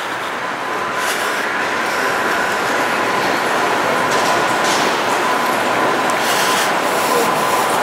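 A 10-car Caltrain rumbles and hisses steadily at a station platform, a loud continuous rolling roar with a faint high whine running through it as it arrives or pulls away.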